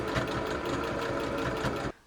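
A sewing machine stitches fabric for children's pixie pants, running in one steady, loud mechanical whir with a rapid needle rhythm before stopping abruptly near the end.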